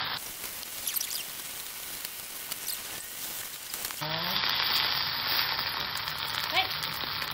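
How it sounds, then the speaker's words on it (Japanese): Food pressed down and fried in added oil in a pan, giving a steady close sizzle that grows louder and brighter partway through as more oil heats. "ちょっと押さえながら焼いていきます。"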